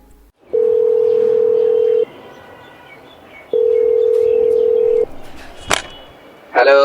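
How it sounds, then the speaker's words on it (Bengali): A phone call's ringback tone: two long steady electronic tones, each about a second and a half, with a pause between them, loud and clear over faint background hiss. "ইনস্ট্যান্ট চঞ্চলকে ফোন লাগিয়ে দিল।"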